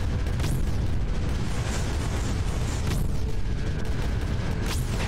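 Cannons fire in Creeper World 4, a steady wall of rumbling, booming bursts with rising whooshes, loud and continuous with no talk.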